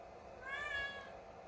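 A cat gives a single faint, drawn-out meow with a rising and falling tone over a low machine hum.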